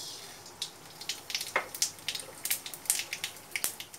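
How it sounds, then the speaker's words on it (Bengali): Mustard seeds sputtering in hot oil for a fish curry, sharp scattered pops and crackles over a faint sizzle, close and fairly quiet, bursting at an irregular rhythm. "সর্ষে ফোড়ন দেব।"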